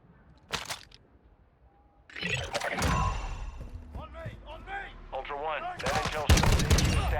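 Bursts of M16 rifle fire in the Call of Duty DMZ video game crackle at the start and grow heavier near the end, mixed with game voices and radio chatter in the middle.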